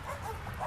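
Two dogs kept in a tiny 8x8 outdoor cage give a short, faint whimper and yip, heard alone at a distance for under a second.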